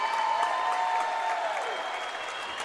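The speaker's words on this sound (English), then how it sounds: "the Stryker faithful right now are standing loud and proud, clapping for this team." A basketball crowd at a girls' regional semifinal, Stryker against Miller City, gives steady sustained applause from the stands, a dense wash of clapping that holds evenly throughout without announcer talk.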